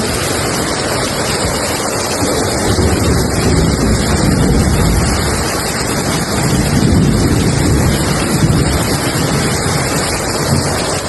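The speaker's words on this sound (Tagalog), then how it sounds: "Lakas na yung hangin." Strong wind buffets the microphone with a steady, loud roar during a rainy day, with continuous rumbling gusts and no speech over it.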